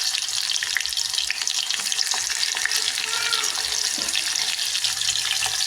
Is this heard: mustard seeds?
yes